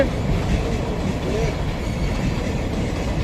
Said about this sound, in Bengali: রেল গেট পড়ে গেছে দুদিকে বাস জাম ট্রেন কখন পাস হয় গেট কখন খুলে ময়ূরাক্ষী ফার্স্ট প্যাসেঞ্জার পেরোচ্ছে